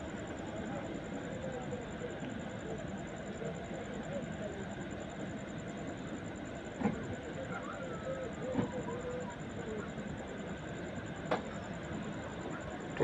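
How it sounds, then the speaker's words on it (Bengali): An express train of brand-new 2024-built LHB coaches pulls slowly out of a station, a steady broad rumble with faint clanks and a few sharp knocks, and people can be heard around the platform. "ট্রেনটি ধীরে ধীরে স্টেশন থেকে বেরিয়ে যাচ্ছে।"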